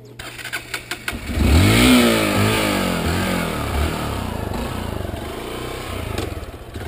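A motorcycle called a Guerreira starts out with a few sputtering pops, then its engine rises in a loud, close rev as the rider pulls away and holds a steady drone.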